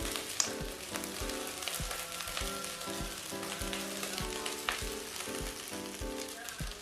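Beef nasi goreng frying in a hot pan, a steady close sizzle with repeated scraping and clanking of a spatula as the rice is stirred, no voices.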